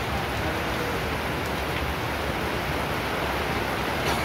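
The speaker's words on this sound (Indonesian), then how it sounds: "hujan semakin deras" Heavy rain pours steadily outdoors in Ambon, a dense, even hiss that stays loud and unbroken with no speech.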